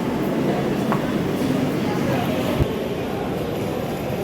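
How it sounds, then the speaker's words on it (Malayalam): Metro train at Edappally metro station in Kochi, a steady loud rumbling hum of the moving carriage throughout, with faint background voices. "ഇപ്പോൾ ഉള്ളത് എടപ്പള്ളി മെട്രോ സ്റ്റേഷനിലാണ്."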